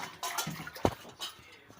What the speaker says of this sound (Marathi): थोड्या वेळ असंच पाण्यात ठेवायचं अशी स्वच्छ धुवून घ्यायची मीठ टाकून